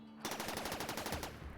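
A quick machine-gun burst from the game RimWorld, about a dozen rapid evenly spaced shots in a single loud volley lasting around a second, alone with no talk.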